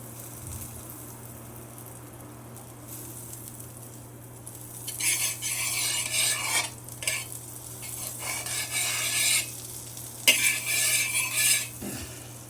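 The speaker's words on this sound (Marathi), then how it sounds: "गॅसवर तवा तापत ठेवलेला आहे त्यात थोडं बटर घालायचं आहे पसरून घ्यायचं आहे सगळीकडे" Butter melting and spreading across a hot griddle (tava) on a gas stove, a soft sizzle rising in two louder stretches with scraping and spreading sounds, no talking.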